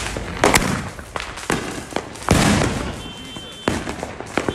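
Fireworks from an ammo dump cake burst in a rapid series of sharp, loud cracks and booms with rumbling tails in open air, a few seconds of irregular explosions at night in Hayward.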